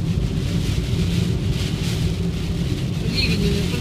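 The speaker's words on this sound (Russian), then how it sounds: "Очень сильный дождь." Very heavy rain pours steadily on the Great Ocean Road in Australia, a dense continuous roar with low rumbling that fits distant thunder, loud and unbroken throughout.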